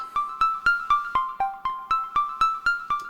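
A bright FM8 synthesized tone plucked in a steady pulse of about a dozen short notes, each ringing out with a reverb tail, melody shifting slightly.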